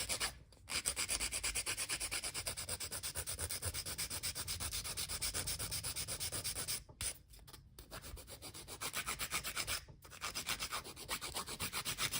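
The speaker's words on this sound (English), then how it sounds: "The more filing I do, I'm getting rid of all that sticky stuff" A file rubs rapidly back and forth over the edge of a sculpted nail form, making dense rhythmic rasping strokes. The filing is close and continuous, broken by a few brief pauses.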